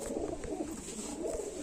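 A pigeon coos in low, rolling murmurs that run steadily through the short stretch, close and moderately loud with a faint broadband hiss behind it.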